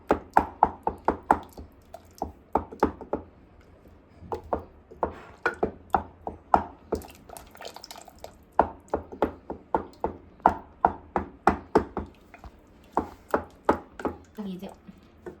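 Boiled cauliflower, carrot and potato being mashed for pav bhaji, a steady run of loud, close thumping strokes in quick bursts with brief pauses, carrying on for about fifteen seconds with no voice.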